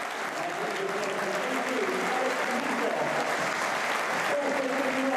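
Broad, even applause from a large football crowd at an EFL Championship match between Oxford United and Sunderland as substituted players leave the pitch, a continuous wash of clapping with a hint of crowd murmur underneath.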